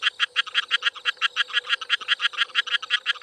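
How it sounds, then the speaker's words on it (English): A male frog calling close by in Brisbane in a fast, steady series of pulsed croaks that repeat rhythmically without pause. "Male frogs do most of the calling."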